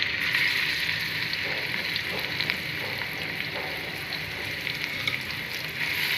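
Onions sizzle and fry in hot oil in a pot for aloo pulao, a steady dense crackle with small pops running evenly throughout, close and moderately loud with no talking.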